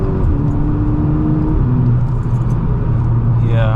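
A 263 bhp VW Golf MK6 GTI pulls away from a standstill on a slight uphill with a little wheel spin. The engine note climbs and drops as it shifts, staying close and loud, then settles into a steady rumble.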